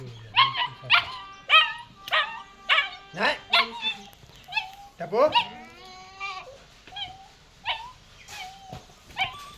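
Dogs at a veterinary hospital whine, whimper and let out short yelps and barks, a steady series of high, plaintive cries close by.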